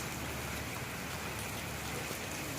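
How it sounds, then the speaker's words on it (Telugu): Heavy rain pours down in a dense, constant hiss that fills the whole clip without a break. "ఫుల్ వర్షం కొడుతుంది"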